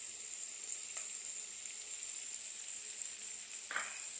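Chili paste and poppy seed paste sizzling in a pan, a faint steady hiss with a couple of brief scrapes.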